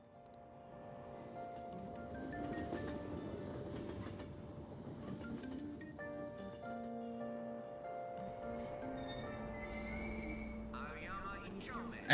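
Train at a Japanese station in the Persona 5 video game: a steady, moderately loud rumble with sustained humming tones. It runs continuously for about twelve seconds and swells slightly partway through.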